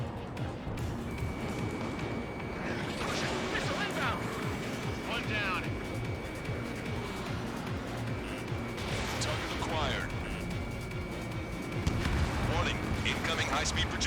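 Incoming missile warnings and explosions in the Ace Combat 7 video game ring out over a steady roar of jet engines, with a tone holding through much of the scene and bursts of blasts, while radio voices talk throughout.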